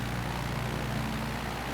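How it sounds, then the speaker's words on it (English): A jet passing overhead in Microsoft Flight Simulator, heard from a Tanarg 912 ultralight trike, gives a steady, broad, low engine roar with no clear rise or fall. "There goes somebody up top with that jet flying over."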